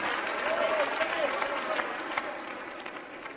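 A stadium crowd at the 1989 World's Strongest Man applauds a strongman lift with a sustained wash of clapping and cheering, fading slightly toward the end, while a commentator talks over it.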